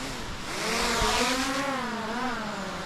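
A fishing drone launches on the surf beach at Himatangi near Wellington, its motors giving a sustained, fairly loud whine whose pitch climbs and wavers as it lifts away.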